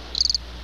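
Crickets chirp in a quick burst of about five pulses, loud and close, then fall silent before a faint start of another trill at the end.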